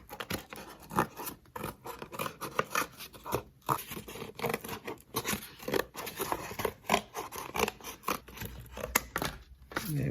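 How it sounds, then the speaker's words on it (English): Scissors cutting a round paper disc out of a traced circle, a close, quiet series of crisp snips and rustling paper in an irregular rhythm, with short pauses between cuts. "I'm just going to cut this out."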